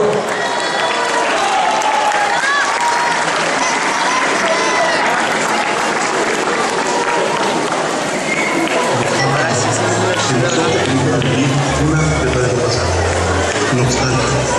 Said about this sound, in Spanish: Recibámoslos con un fuerte aplauso, por favor.